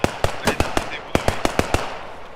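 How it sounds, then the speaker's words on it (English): Gunfire in the World War II shooter Post Scriptum, a rapid series of about ten sharp cracking shots in uneven bursts, fairly close, with a faint background of battle ambience. "Shooting going on here."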